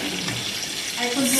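Water runs from a tap in a steady rushing stream for a moment during curry cooking in a home kitchen, close and fairly loud, swelling slightly near the end.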